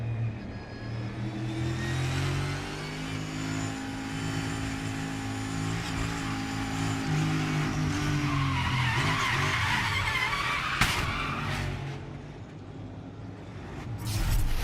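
A NASCAR Cup Series race car skids and crashes hard at the Charlotte ROVAL, a sustained roar of engines and scraping tires building to a sharp impact near the end.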